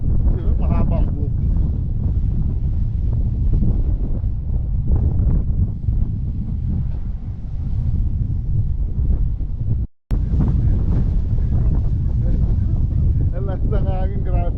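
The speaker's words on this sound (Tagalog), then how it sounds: "Ang lakas ng hangin, grabe." Strong, cold wind buffets the microphone during an outdoor pedicab ride, producing a loud, continuous low rumble with one brief dropout, while people talk over it.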